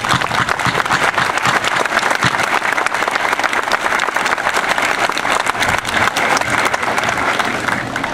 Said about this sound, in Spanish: fuerte aplauso para usted